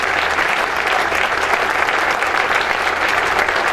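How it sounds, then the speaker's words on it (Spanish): Dense, steady applause from the audience at an environmental cooperation program award ceremony, loud and continuous throughout with no voices over it. "Un fuerte aplauso, si no fuera por nuestros patrocinadores."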